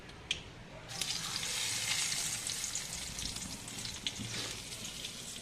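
Chopped garlic drops into hot oil already holding fenugreek, black mustard seeds and dried red chillies, bursting into a loud, steady broadband sizzle after about a second, with a few sharp spatters and pops.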